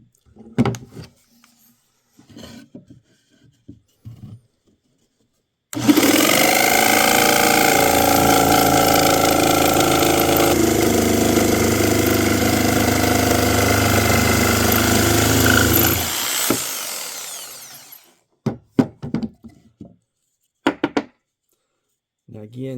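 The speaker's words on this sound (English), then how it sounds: "Now I just need to saw this block out." Saw cutting a block from 3/4 inch scrap plywood, a loud continuous buzzing run of about ten seconds, with faint knocks and handling before and after.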